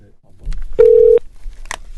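During a broadcast talk show, a telephone line gives one steady tone of under half a second while a call is being placed, with low background rumble and faint voices.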